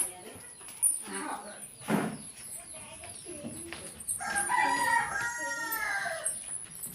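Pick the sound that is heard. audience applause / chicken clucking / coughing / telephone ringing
chicken clucking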